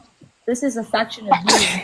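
A person sneezes once, sharp and close, right after a man finishes a short spoken sentence.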